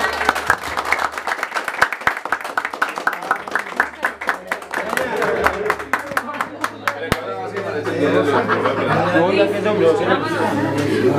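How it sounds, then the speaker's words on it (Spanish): Guests at a birthday party with a youth mariachi group clapping in a mix of sharp individual claps and a looser round, with chatter and laughter around it and people talking throughout. "El aplauso, bien bonito."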